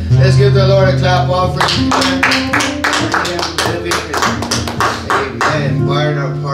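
A church congregation claps along during a worship song, steady taps running under loud singing voices and music throughout.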